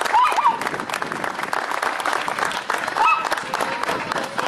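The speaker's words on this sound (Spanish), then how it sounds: "quiero brindarle un aplauso" Applause from a crowd gathered in a host's home courtyard at a Ford car meet, steady and fairly loud throughout, with a few voices and whistles mixed in.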